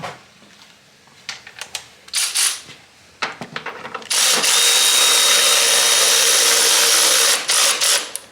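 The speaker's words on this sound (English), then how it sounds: "Okay, let me snug these up with a 17." Bolts on a Honda S2000 suspension are snugged up with a 17 mm wrench: close ratcheting clicks and scraping metal bursts, then a loud sustained whirring tool-like roar fills the second half.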